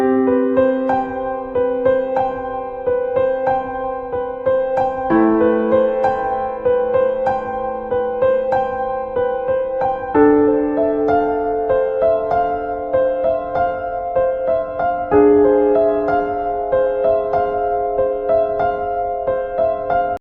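Piano playing emotional left-hand chords in a sequence of four sustained changes about every five seconds, with melody notes ringing above, clear and close, alone without any voice.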